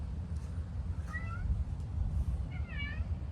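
A cat gives two distinct meows, the second longer and more drawn out, close and fairly clear over a low rumbling background.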